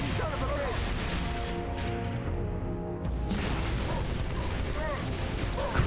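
Heavy weapon fire from a fuel rod cannon during a Halo 3: ODST firefight on a highway, with dense, continuous blasts and crashing impacts layered over constant battle noise that briefly dips before resuming.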